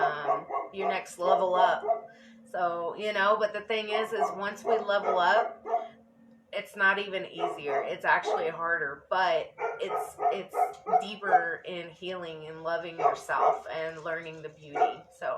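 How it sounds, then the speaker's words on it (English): A dog, a female, barks and yips repeatedly in the background while someone speaks continuously over it, the barks coming in short bursts under her talk. "again, I apologize about the dog"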